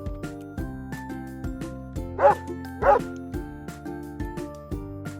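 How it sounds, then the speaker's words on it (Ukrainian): Two short dog barks stand out over a steady musical backing, the yaps clear and fairly close, spaced about half a second apart. "А це собачка."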